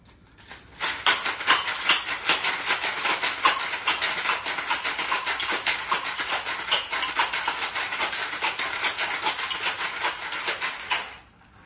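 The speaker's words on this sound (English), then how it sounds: "add ice and shake for about 15 seconds" A cocktail shaker packed with ice is shaken hard for about ten seconds, a loud, continuous rattling hiss that starts and stops abruptly, with no talking.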